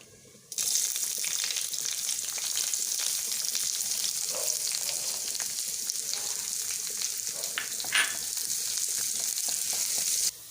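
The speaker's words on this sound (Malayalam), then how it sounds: "അപ്പം നമ്മുടെ ചട്ടി ചൂടായി വെളിച്ചെണ്ണ ഒഴിച്ചു കടുകിട്ടു കടുക് പൊട്ടി" Mustard seeds spluttering in hot coconut oil in a pan for dal palak curry, a loud continuous sizzle with sharp popping crackles starting abruptly and running steadily, no voices.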